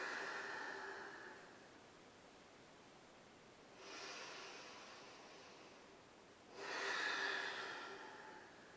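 Three long, airy exhales during a yoga flow, each lasting a couple of seconds, soft and close, with the last one the strongest and quiet gaps between them.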